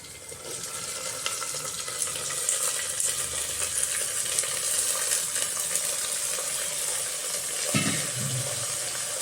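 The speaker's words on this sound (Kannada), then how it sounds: "ಇದೆಲ್ಲ ಸ್ವಲ್ಪ ಫ್ರೈ ಆಗಲಿ." Sprouted mixed beans and vegetables frying in a pan, a continuous soft sizzle with occasional scraping and stirring clatter, close and steady without talk.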